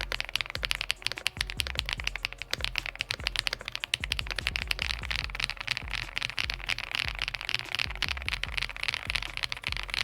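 Rapid, steady typing on an Ajazz AK35i V3 mechanical keyboard, dense clacking keystrokes close up with frequent bursts, continuous throughout with no talking.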